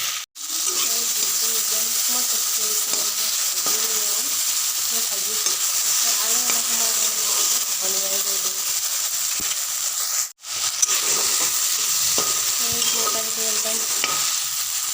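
Pointed gourd and potato curry frying in a pan, a steady close sizzle with scraping stir strokes throughout and two brief breaks near the start and middle.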